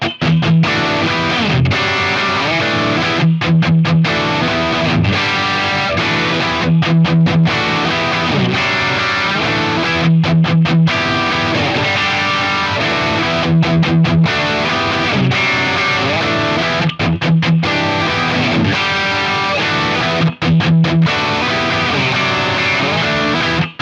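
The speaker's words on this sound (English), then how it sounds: "I'm just gonna kind of like just play some like palm muted riffs" Heavy distorted electric guitar, a Squier Affinity Series Telecaster, chugs through palm-muted riffs, tight chopped rhythms broken by short stops, loud and close throughout.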